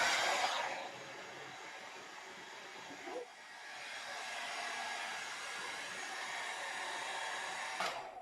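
A hooded hair dryer blows on long wavy hair, a steady airy whoosh that holds fairly level throughout, with a brief bump partway and faint shuffling at the end.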